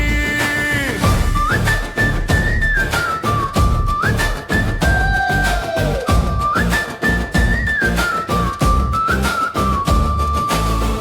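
Loud, sustained whistling carries a melodic line over a driving song with heavy percussion, performed as a whistle anthem for a Chennai road show.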